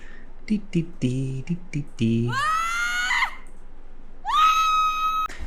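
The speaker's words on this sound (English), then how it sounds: "now I'm downloading a Screams and Shouts pack from the Unreal Engine Marketplace" Screams and shouts from a sound effects pack play in quick succession: short vocal cries first, then two long rising shrieks, loud and close with nothing else underneath.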